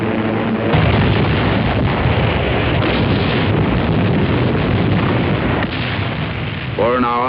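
Heavy explosions and gunfire roar continuously during the November 1940 naval air attack on the Italian fleet in Taranto harbor, a loud, dense wall of blasts in an archival wartime recording, with a faint voice near the end.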